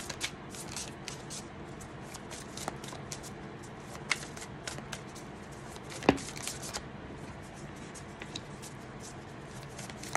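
Tarot cards are shuffled for a reading, a continuous soft riffling and flicking of card stock with small sharp snaps scattered throughout, close and quiet with no talking.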